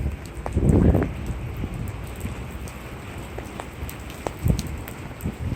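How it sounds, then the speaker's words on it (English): Rain falling and water dripping from trees overhead during a high wind storm in New York City, a steady close patter with a heavier gust-driven burst near the start and scattered drops throughout. "It's hard to tell when the rain's picking up or it's just the trees above me."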